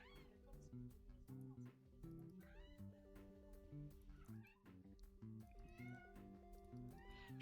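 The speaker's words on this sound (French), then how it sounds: "Il y a un petit chat là." A small cat meows in the Slime Rancher 2 video game, its short calls set against steady, busy game music that stays loud throughout.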